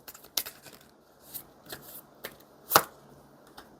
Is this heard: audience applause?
no